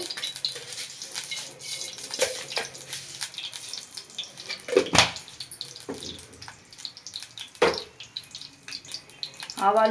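Mustard seeds crackle and pop in hot oil for a tempering, a dense irregular spattering with a few sharper louder bursts, close by.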